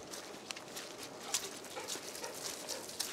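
A dog whimpers faintly on an outdoor walk, soft high-pitched whines repeating now and then against quiet background noise.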